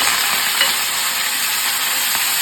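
Curry leaves dropped into hot oil with mustard seeds, a loud, steady close-up sizzle and crackle of frying that continues evenly without pause.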